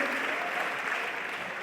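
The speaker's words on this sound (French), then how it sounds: "applaudis, mets l'ambiance" Audience applause at a comedy show in a hall in Gombe, a soft, steady wash of many hands clapping, somewhat distant and even in level throughout the brief moment.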